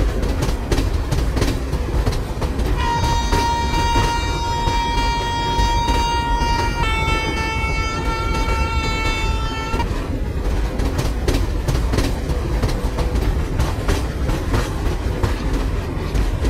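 The 12433 Chennai–Nizamuddin Rajdhani Express runs loud and close on the rails, its wheels rumbling and clattering steadily, while a long two-part horn sounds through the middle of the passage.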